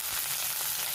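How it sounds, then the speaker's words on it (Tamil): Curry leaves frying in a little oil in a pan for a village-style chicken roast, a short burst of close, bright crackling sizzle, with no talking. "இதே பேனில் கொஞ்சமாக எண்ணெய் விட்டுடுவோம். கருவேப்பிலை,"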